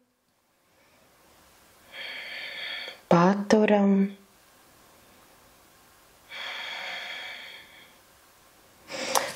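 Slow, audible breaths during a seated yoga twist for easing lower-back tension come in separate drawn-out inhale and exhale phrases with quiet gaps between them, and a short spoken word breaks in.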